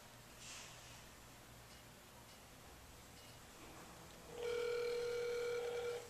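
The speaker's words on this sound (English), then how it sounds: "This one's ringing." A cell phone inside a makeshift Faraday cage of a soup can covered by a book starts ringing near the end, a steady electronic ringtone following a quiet stretch of faint rustling.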